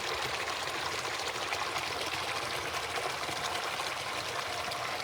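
Water flowing steadily at a mountain spring on Mt Pinos, a continuous close rushing and trickling wash that stays even and fairly loud throughout with no voices.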